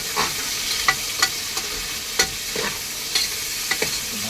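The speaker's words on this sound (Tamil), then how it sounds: "நல்லா எல்லாத்தையும் போட்டு வதக்குங்க" Onions with chilies and other ingredients sautéing in a pan for tomato rice, an even sizzle punctuated by regular close scrapes and taps of a spatula stirring.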